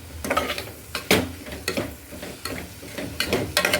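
Coriander being stirred and sautéed in a pan of roadside-style kurma, with repeated scraping, clinking stirs over a low sizzle, close and moderately loud.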